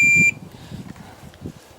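A continuity tester used on a new irrigation controller gives one steady electronic beep lasting about a third of a second, clear and close, followed by faint low room noise.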